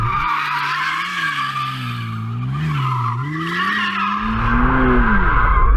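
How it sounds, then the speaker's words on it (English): A McLaren Artura spins in circles, its tyres squealing in long wavering howls as the engine drones beneath, the squeal rising and falling with the slides and swelling louder toward the end, close and without talk. "I'm just spinning around in circles like a complete newbie"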